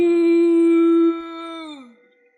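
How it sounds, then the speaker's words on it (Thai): A single dog lets out a loud, close, sustained howl that holds steady and then sags downward in pitch before trailing off. "หมาเจ้ากรรมก็ดันหอนขึ้นมาซะงั้น"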